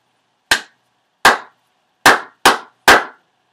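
Hands clap a rhythm back during a children's music lesson: five sharp, bright claps, the first two spaced evenly and the last three quicker, close and clear with silence between.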